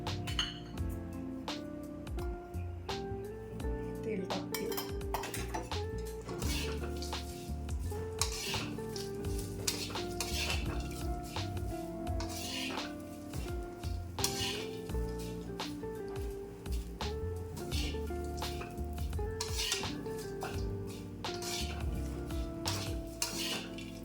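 Fennel seeds and spices dry-roasting in a pan while being stirred for Kolhapuri masala, giving a steady close scrape-and-clink of a spatula against metal with a faint sizzle, continuous and busy throughout, no talking.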